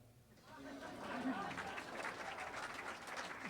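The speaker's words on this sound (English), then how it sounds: "This is when you clap." Applause rises from a gathered congregation after a brief quiet start, settling into steady, moderately loud clapping with scattered chatter and voices underneath.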